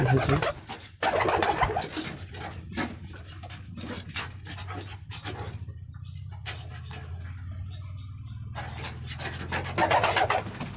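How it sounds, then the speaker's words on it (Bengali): Soft cooing from several pigeons close by, mixed with fluttering, pecking and scattered clicks, with a low hum underneath. "দেখেন সবগুলো কবুতর এখানে"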